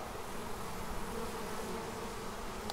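A newly installed honey bee swarm buzzes steadily inside a hive, a dense continuous hum at close range with no voices.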